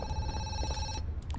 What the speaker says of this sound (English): Oh great, the phone's ringing again.